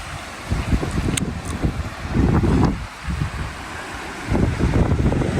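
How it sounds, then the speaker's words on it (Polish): Gusty wind buffets a microphone outdoors on a sunny day in Sweden, about 350 km north of Stockholm, rising and falling in low rumbling bursts throughout with no one speaking. "Słoneczko świeci, wiaterek wieje, jest fajnie."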